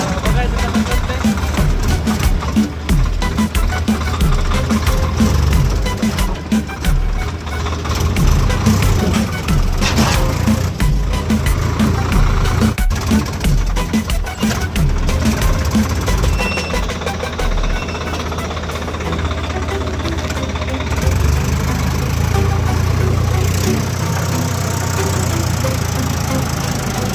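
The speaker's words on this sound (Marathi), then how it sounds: "सो गाईज तर आता ट्रॅक्टर सुरू केलेला आहे" A Swaraj 855 FE tractor with a tiller hitched runs in a farm field, its engine a loud, rough low rumble mixed with clattering and knocking bursts, while a person talks over it at times.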